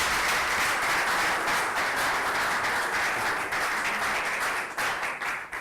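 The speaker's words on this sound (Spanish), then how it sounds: "Dejo de ustedes al doctor Lozada, a quien pido que lo recibamos con un fuerte aplauso." Loud, sustained applause from an audience fills the whole stretch, a thick continuous roar of clapping that eases slightly at the end.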